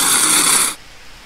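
A horse hiss emote in the HorseWorld video game gives a loud, breathy burst of hissing air lasting under a second, then cuts off abruptly to near silence.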